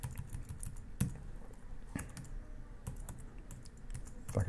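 Fast, light keystrokes patter on a computer keyboard close to the mic, in an irregular rhythm with a few sharper taps, quiet and with no voice over them.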